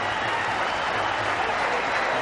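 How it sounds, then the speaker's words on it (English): The Pakistani team camp applauds a batsman's fifty at a one-day international cricket match in Sharjah, heard as a steady wash of distant crowd clapping that holds level throughout. "There you see the Pakistani camp applauding his effort"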